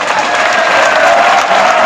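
An audience claps loudly and steadily during a speech at a statue unveiling in India, a thick, sustained burst of many hands from a crowd, with no voice over it.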